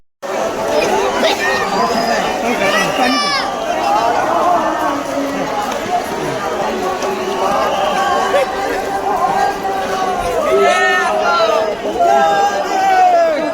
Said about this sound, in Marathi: लहान मुले, वयोवृद्ध, महिला, पुरुष हे या गर्दीमध्ये आहेत